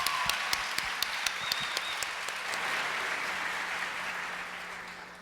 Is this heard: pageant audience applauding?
yes